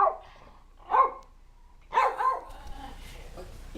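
Billy, a dog at home, lets out three sharp barks in short succession, close by in a quiet room with faint background noise between them.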